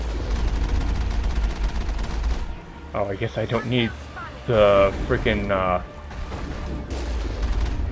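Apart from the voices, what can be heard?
machine gun and cannon fire in Mass Effect video game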